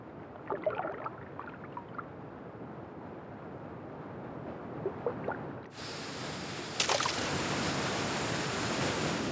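Steady rushing roar of river rapids and waterfalls among rocks in South American rainforest, continuous and fairly loud, swelling brighter and closer partway through, with no voices.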